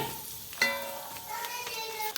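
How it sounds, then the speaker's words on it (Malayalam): A spoon stirs star fruit pickle mixed with ground paste, asafoetida, chili powder and pickle spices, making soft wet scraping and a few sharp clinks against the vessel, close and fairly quiet. "ഇനി എല്ലാം പാടെ കൂട്ടിയിട്ട് മിക്സാക്കുക"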